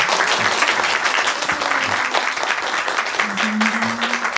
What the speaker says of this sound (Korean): 두 분께 마지막으로 큰 박수 부탁드리겠습니다